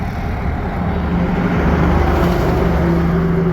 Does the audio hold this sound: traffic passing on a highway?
yes